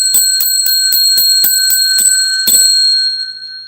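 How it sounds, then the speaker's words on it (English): A small bell is struck about nine times in quick, even succession, loud and close, each strike ringing on and the last one fading out. "I'm going to ring the bell because we just got to 100 thumbs up"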